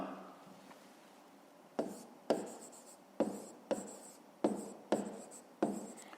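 Pen strokes on paper while a Grade 5 maths solution is written out, a quiet steady scratch with sharp tap-like onsets roughly every half second in the latter part, close and alone with no voices.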